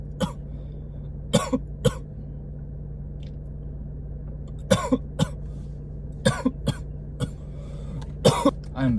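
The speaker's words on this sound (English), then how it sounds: "I had to go for a minute and stop coughing" Repeated coughs in short bursts over a steady low hum, some single and some in quick pairs, fairly close, at a park after a dab session.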